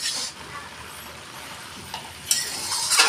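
Leafy greens and potato pieces being stirred and turned in a hot cooking pan, a soft steady sizzle with a few scraping utensil clinks near the end.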